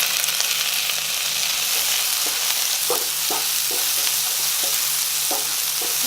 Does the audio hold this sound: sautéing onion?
yes